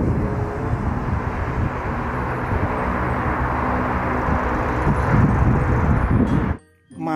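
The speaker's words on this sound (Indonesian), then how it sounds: "Pesawat terbang." A toy airplane sound effect, a sustained, even engine roar with a broad rushing texture that holds steady for several seconds before dropping away abruptly near the end.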